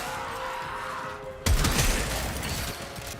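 A weapon firing in the video game Warframe bursts in abruptly after a quiet stretch, then carries on as a dense, loud rattle of rapid shots with crashing impacts.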